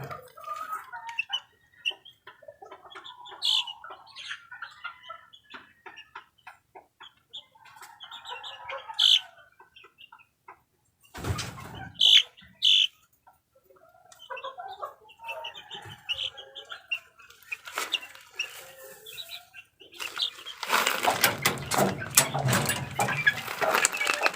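Young chicks, baby gamefowl stags, peep and cheep in a series of high, scattered calls, with louder bursts near the middle, and a loud rustling, handling noise at the end.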